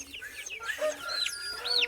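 Chicks in a coop of around fifty birds squabble and fight, giving off scattered high-pitched cheeps and peeps, close and moderately loud, with a few sharper calls standing out.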